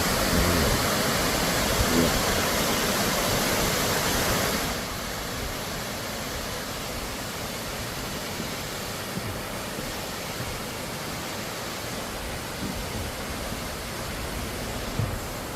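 Constant roaring rush of the third falls of Yongyeon Falls in Juwangsan National Park, South Korea, broad and loud throughout, easing slightly in level partway through; no speech.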